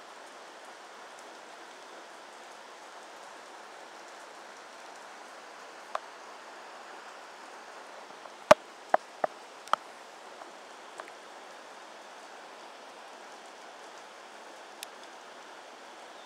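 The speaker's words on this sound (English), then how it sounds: "Oh yeah, it's raining." Steady rain falling, a constant soft hiss of drops with a few sharp taps and clicks standing out near the middle.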